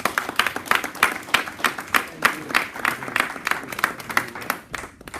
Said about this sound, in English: Give God a clap.